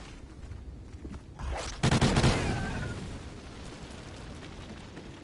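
A short, sharp burst of rapid SMG fire in Call of Duty Extinction cracks out loudly against a quieter background of game ambience, then fades into a lingering rumble.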